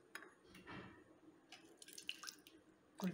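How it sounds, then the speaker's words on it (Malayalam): A little water is poured into a spoonful of rice flour for a cake cream, heard as faint, scattered trickles and drips with light kitchen clinks in a quiet room. "കുറച്ച് വെള്ളം ഒഴിച്ചു"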